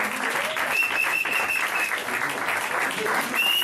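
A church congregation applauding during worship, a dense continuous wash of clapping with voices and a sustained tone mixed underneath.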